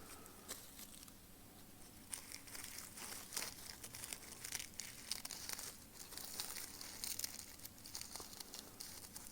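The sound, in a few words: scissors cutting shed snake skin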